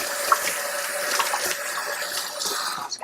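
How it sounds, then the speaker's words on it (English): Hands rinsed under a running tap at a sink, a steady close splash of water with small clinks, while preparing to ferment sauerkraut and vegetables in a crock. "Let me wash my hands first."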